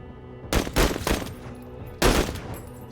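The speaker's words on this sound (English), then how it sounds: "So that is us shooting." Gunfire in the tactical video game Menace: two loud bursts of rapid shots about a second and a half apart over a low background hum, with no talk.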